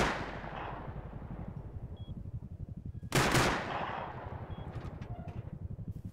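Gunfire in the Rust survival game: a rapid, steady stream of automatic shots rattles throughout, broken midway by one louder, heavier blast, with no talking.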